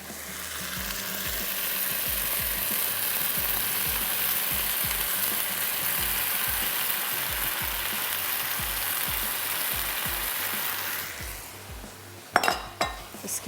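Boiled rice being stirred into a sizzling prawn masala, a steady loud frying hiss with rhythmic scrapes of a spoon against the pan, then a few sharp metallic clinks near the end.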